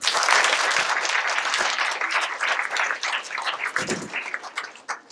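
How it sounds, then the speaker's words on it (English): An audience at a student science fair claps for a newly introduced microbiologist, the applause full and busy at first and then slowly thinning and fading by the end. "So let's give him a round of applause"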